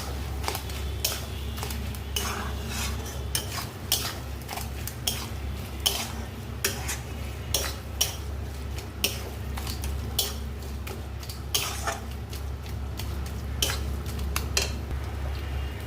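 Chicken bharta being stirred and mixed in a pan: a steady run of clinks and scrapes from a utensil against metal over a constant low kitchen hum, close and fairly quiet, with no talking.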